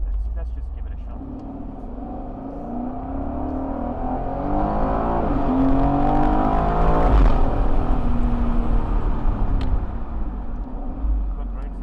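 A 2021 Aston Martin Vantage Roadster with an AMG engine accelerates on a Dubai road, the engine note swelling steadily from a low drone to a louder roar heard from inside the car, with people talking over it.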